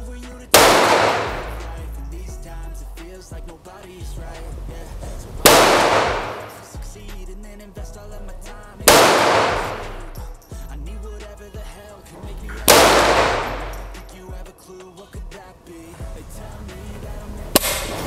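Four loud, sharp Ruger 10/22 rifle gunshots spaced a few seconds apart at an outdoor range, each with a crisp crack followed by a decaying ring.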